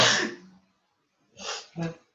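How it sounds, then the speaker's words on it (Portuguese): Sneezing from a person with rhinitis: one strong sneeze at the start, then a short pause and a quick double sneeze or snort, close and loud with no talk. "É que eu tenho renite, então de manhã às vezes eu fico espirrando"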